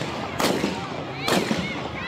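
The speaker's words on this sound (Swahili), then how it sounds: "Milio ya risasi ilitanda katika kanisa la PCEA Kasarani" Gunshots fired at PCEA Kasarani church during a clash: two sharp, loud cracks about a second apart, each with a short echoing tail, over a restless crowd background.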